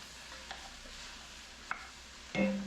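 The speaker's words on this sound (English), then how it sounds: "go ahead and throw our garlic in there" Garlic sizzling in a pan with vegetables, a soft frying hiss with a few light stirring clicks and a brighter burst near the end, close and fairly quiet.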